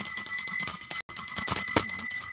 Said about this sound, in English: just ring the bell loudly